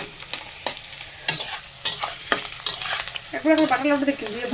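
Chicken cooking in a home kitchen pan, with repeated scraping stirs and a steady sizzle underneath, brief clatters of utensil against pan, and a bubbling simmer rising near the end.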